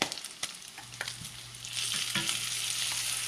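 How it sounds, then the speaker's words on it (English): Homemade pork belly bacon sizzles and crackles in a frying pan, with a few sharp ticks and pops early on before settling into a steady hiss. "Love to hear that bacon sizzling"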